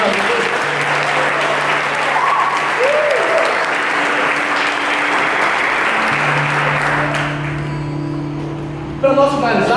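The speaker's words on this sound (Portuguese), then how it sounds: "Dá uma salva de palmas para Jesus maravilhoso." Sustained applause from a church congregation, a dense, loud wash of clapping lasting throughout, with some tonal hum underneath and a brief louder clap near the end.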